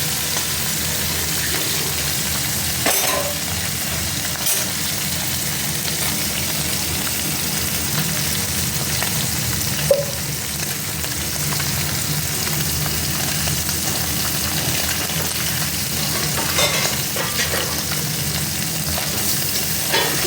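Small morola fish fry in oil with a long, even hiss that holds steady and near, with an occasional louder pop or spit from the pan rising above it.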